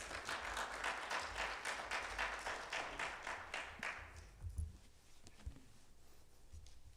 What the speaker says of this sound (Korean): 우리 목사님 나오실 때 환영의 박수로 환영하겠습니다.